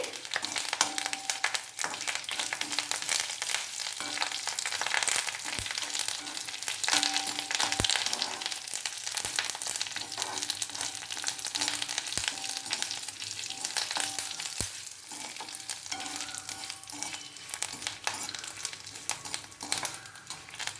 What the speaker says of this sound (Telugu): అలాగే మనం ఎండుమిరపకాయలు వేసుకొని కొంచెం కరివేపాకు కూడా దాంతోపాటు వేసుకొని వేయించుకుందామండి